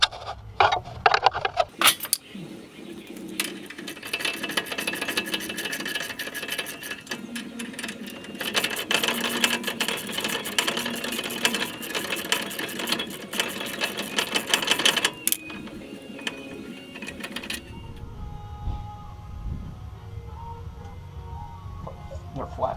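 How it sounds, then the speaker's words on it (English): Brake caliper bracket bolts being removed on a 1996 Ford F350, with long bursts of rapid rattling from a power tool over roughly fifteen seconds, then quieter metallic handling and talk near the end. "we'll pull the bracket off next, which it's the two 13/16 heads on the back here."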